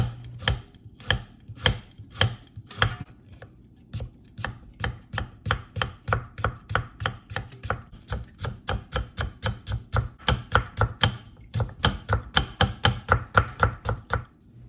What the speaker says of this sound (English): Cut the carrots into thin strips